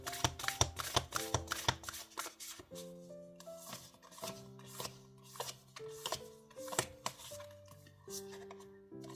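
Oracle tarot cards are shuffled by hand in a close, quiet series of crisp riffling and slapping bursts with short pauses between them.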